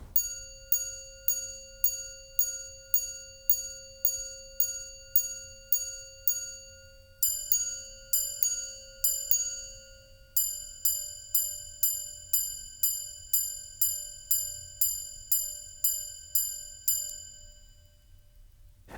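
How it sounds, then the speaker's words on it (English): A Patek Philippe minute repeater watch chimes a run of evenly spaced low tones, then a few paired two-note strikes, then a quicker series of high tones, all delicate and faint over a soft background hiss. "Patek assures us that this is probably their minute repeater that sounds the best"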